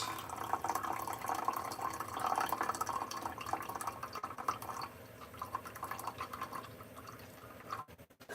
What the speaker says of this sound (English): Drain the macaronis.